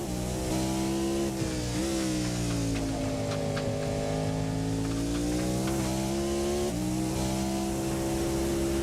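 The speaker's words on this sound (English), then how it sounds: "But on board with the Cadillac, let's listen into the sound of this engine." Cadillac race car engine heard on board at Spa in a racing video game, a loud continuous roar rising and falling through gear changes, with revs climbing, dipping briefly and building again throughout.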